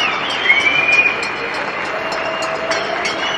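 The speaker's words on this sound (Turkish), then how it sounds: "Türkiye'nin birçok yerinde olduğu gibi Hatay'ın ilçelerinde bulunan insanlar balkondan sağlık çalışanlarına destek için alkışladı." Residents on balconies in the districts of Hatay, Türkiye, clap at night in support of health workers, a steady distant patter of many hands spreading across the neighbourhood with scattered sharper claps.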